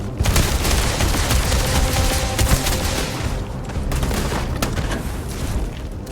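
Dense gunfire rattles through a Starfield firefight, with overlapping bursts of rapid shots and heavy booming impacts sounding close and loud across the whole stretch, no clear talk on top.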